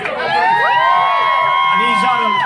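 A crowd at a live stage show cheers and whoops, with shrill overlapping shouts and rising cries filling a short, loud burst.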